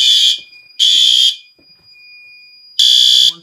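The horn strobes of a conventional fire alarm system blare in long pulses, with a pause between blasts and a fainter steady tone and quiet sounds in the gap.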